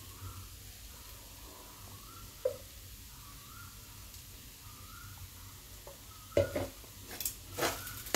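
Ghee goes into a pan of vegetarian squash ghonto, bringing a quiet, steady sizzle with a few spoon-on-pan clinks and scrapes, louder toward the end.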